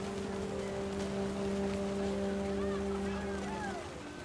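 Heavy rain pours in What Remains of Edith Finch, a steady dense hiss with a low, constant hum beneath it that eases slightly toward the end.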